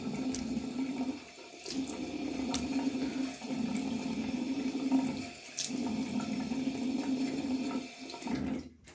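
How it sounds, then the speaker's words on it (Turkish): Water runs steadily from a bathroom sink tap while a face is washed, a continuous close splashing stream broken by brief interruptions as hands move through it, no talking. "Aa, yüzümüzü yıkayalım."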